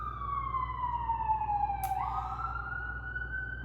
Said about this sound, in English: The ambulances are going a mile a minute.